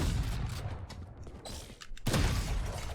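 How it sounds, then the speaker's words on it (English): A Bucky shotgun fires in Valorant, a heavy blast with mechanical clatter, then a second loud boom about two seconds in. "Next gun that we have is the Bucky, which is a shotgun"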